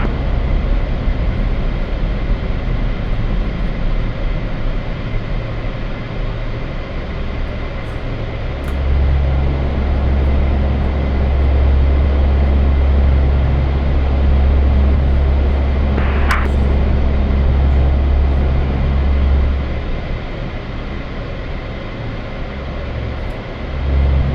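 A C-130 transport plane taxis at Batumi airfield in a flight-sim game, its turboprop engines making a steady, loud low drone that swells slightly midway, with no talk over it.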